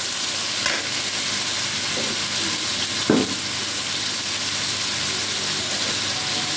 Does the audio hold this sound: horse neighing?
no